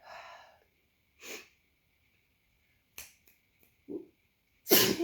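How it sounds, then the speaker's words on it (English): A loud, close sneeze erupts at the end after scattered breaths and sniffs in a quiet room, preceded by a faint steady tone. "I'm about to sneeze."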